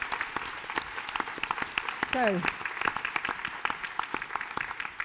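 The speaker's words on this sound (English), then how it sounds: "I think they deserve a round of applause just for putting themselves into this" An audience gives a round of applause for contestants in a civil service challenge finale, dense clapping running throughout at moderate volume, with a brief voice rising over it midway.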